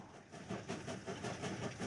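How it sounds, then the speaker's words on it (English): A train rolls along the rails in a shadow puppet film, a steady rhythmic clickety-clack of wheels over track joints, moderately quiet and distant, with no voices. "The train moved slowly"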